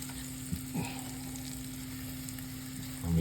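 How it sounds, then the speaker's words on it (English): A quiet, steady sauté sizzle from butter and canola oil in a pan, faint against a low electrical hum, with a couple of soft knocks and no voices. "Let me just let this saute."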